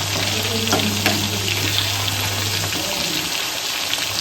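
Chicken kebab pieces frying in masala and oil, a steady close sizzle with a few stirring scrapes and knocks early on and no talking.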